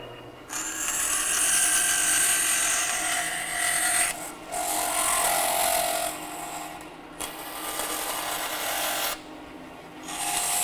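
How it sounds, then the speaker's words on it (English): A power drill bores number 49 holes into a knife liner-lock spacer bar, its whine running in several sustained bursts, loud and close, separated by short pauses. "What we can do is we'll go ahead and drill that now. These are number 49 holes"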